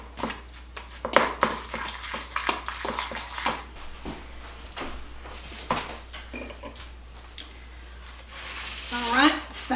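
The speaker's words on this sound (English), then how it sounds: "So I'm just mixing it all" Powdered sugar and peanut butter stirred together into a crumb topping for a peanut butter pie, with repeated close scraping and tapping of a utensil in a bowl, uneven in rhythm, and a brief clatter near the end.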